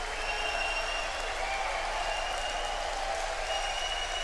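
A Gibraltar darts crowd bursts into sustained applause for a perfect nine-dart finish, a dense, even wall of clapping that holds loud and unbroken throughout.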